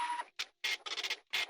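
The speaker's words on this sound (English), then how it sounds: "Paper jam." A printer runs through a short printing burst, a series of mechanical whirs and chattering feed pulses with brief gaps, ending in a final grinding push as the paper jams.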